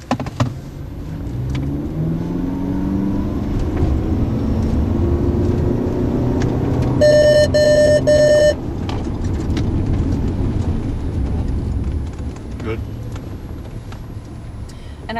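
A car approaches from the opposite direction during a Ford vehicle-to-vehicle collision-avoidance demonstration, its engine a steady, fairly loud mid-range drone that holds throughout, with a brief tonal warning chime near the middle and some speech in the background.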